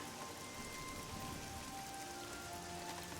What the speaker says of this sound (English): even though we're in the rain